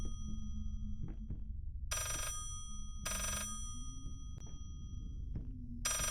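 An old telephone in the horror game Layers of Fear rings in three short, bright bursts spaced about a second apart, over a low droning ambience with faint creaks, and nobody speaks.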